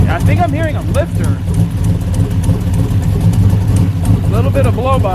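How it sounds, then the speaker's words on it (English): An idling junkyard Buick Skylark engine at about 800 RPM rumbles steadily with a faint, quick lifter tick riding on top, while someone talks over it at the start and end. "I think I'm hearing a lifter."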